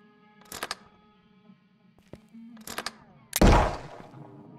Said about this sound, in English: I can keep shooting if I want